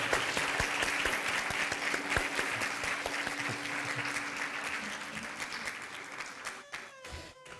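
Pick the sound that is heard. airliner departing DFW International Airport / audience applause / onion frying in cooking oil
audience applause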